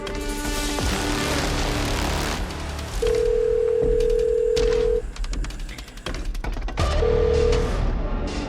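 A telephone dial tone sounds in long steady beeps between clicks and handling noises while a call is placed, heard close and clear with some background clatter.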